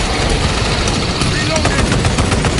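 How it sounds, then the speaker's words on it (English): Orbital guns fire in Warhammer 40000 Space Marine 2, a dense, continuous roar of loud rapid blasts with engine-like rumble throughout. "There they are, the orbital guns."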